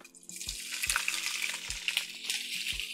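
Sliced sausage sizzles in olive oil in a frying pan: a steady, bright crackling hiss broken by soft, regular thuds as pieces are moved or stirred, with no talking.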